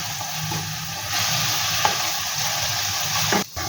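Whole green chillies and onions frying in a pan, with a steady sizzle and occasional scraping stir strokes, close and continuous.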